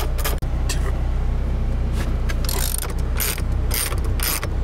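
Ratchet wrench loosening 14 mm bolts holding the center console to the transmission tunnel of a 1992 Mazda Miata, with rapid clicking pawl bursts in repeated runs over a constant low hum, close up and loud.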